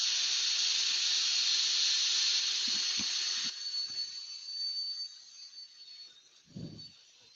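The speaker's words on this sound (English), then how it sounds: "It would normally take a whole lot longer than this for sanding." A steady, high-pitched whirring hiss of a power sander on turned driftwood runs for a few seconds, then winds down, followed by scattered soft knocks and a thud.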